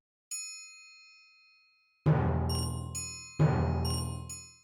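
A bright synthetic chime sounds once, then two sharp electronic drum hits from the Chrome Music Lab Kandinsky app follow, each ringing out with a metallic, bell-like decay.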